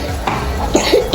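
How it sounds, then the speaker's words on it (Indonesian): A feverish child at home gives a short cough, close by, with some chatter around it. "Tuh batuk."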